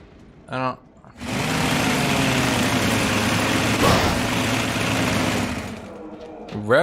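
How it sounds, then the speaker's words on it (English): A chainsaw revs hard in League of Legends, a steady loud buzzing engine drone that holds for several seconds, with short bits of a voice before and after. "Rev chainsaw eviscerate."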